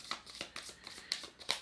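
A deck of tarot cards shuffled by hand, giving quick, soft, papery riffles in an uneven rhythm, close and quiet with no talking.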